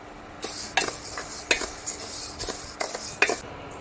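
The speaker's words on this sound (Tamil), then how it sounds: "தோரம்பருப்பை போட்டு வறுத்துக்கலாம்" Toor dal being dry-roasted in a pan: a run of rhythmic scraping and rattling stir strokes, about six sharp sweeps in four seconds, close by and without any voices.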